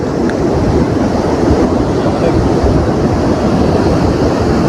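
Steady roar of sea surf mixed with gusting wind buffeting the microphone at Sankaraguptam beach, a continuous loud wash with no clear breaks and no talking.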